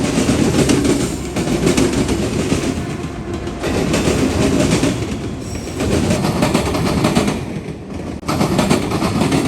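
Freight train M217 rolls past close by on a rail line in Marion, Ohio, a loud, continuous rumble of wagons with rhythmic clickety-clack from the wheels and no talk.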